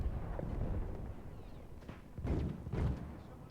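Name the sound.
shotgun fire in the video game Battlefield 1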